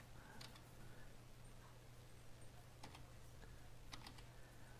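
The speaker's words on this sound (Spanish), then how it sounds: "Voy tecleando poco a poco hasta que me digáis un nombre." Keys tapped on a computer keyboard while naming a creature in the game Temtem, a slow scatter of individual clicks over a steady low hum, with no voices.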